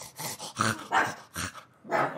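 A man loudly imitates a dog's labored, wheezy breathing in a series of rough, breathy bursts, and a dog answers with a low growl mixed in close by.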